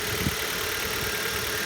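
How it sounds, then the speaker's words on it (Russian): A cold Hyundai G4FC engine idles just after starting, a steady mid-pitched running drone with light ticking from the injectors, close and continuous with no speech. "Итак, вот запустил только что двигатель."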